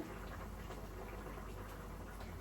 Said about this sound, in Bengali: এখন একটু সরিষার তেল এই কাঁচা এই তরকারিটার উপরে দিয়ে দিব